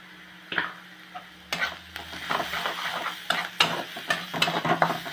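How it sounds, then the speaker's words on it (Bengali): Spices with turmeric fry in a pan while a spoon stirs and scrapes them, giving irregular clinks and knocks over a soft sizzle, close up with no talking. "এটা আর একটু ভেজে নেব।"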